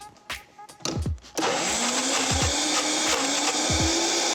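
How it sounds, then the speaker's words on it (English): A blender whirs loudly and steadily after a few short clicks and knocks, blending a vegan frittata mixture, its motor droning continuously with faint thumps underneath. "My blender's over here, so I'm just gonna blend it."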